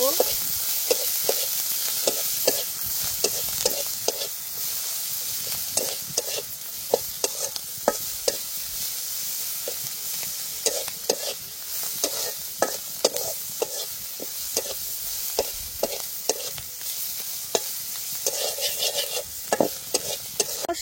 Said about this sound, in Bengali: সবকিছু খুব ভালোভাবে ভেজে নিব।